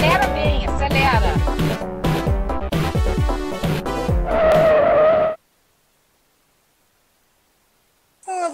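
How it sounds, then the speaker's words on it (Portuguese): Go-kart accelerating hard and skidding with tire squeal on a life-size Clash Royale arena track, loud and continuous for about five seconds, then a sudden cut to silence before a brief burst returns at the end. "Acelera, acelera bem, acelera!"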